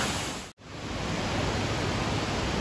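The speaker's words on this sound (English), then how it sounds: "It's always nice to find waterfalls in here." A loud, steady hiss of falling water fills the space near an indoor waterfall in the Opryland hotel atrium, broken by a split-second cut before the roar resumes unchanged.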